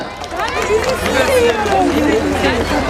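Concert goers at a live Turkish folk music show applaud for a confederation president, a loud, sustained roar of clapping blended with cheering and shouting voices that swells slightly midway.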